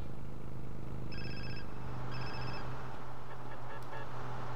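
A telephone rings in the video game GTA San Andreas, two short bursts of electronic trilling over a steady low in-game hum, followed by faint clicks.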